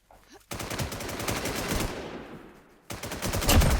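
Automatic gunfire in Warz Infestation, a loud, rapid machine-gun burst lasting about two seconds, a brief pause, then another close, heavy burst.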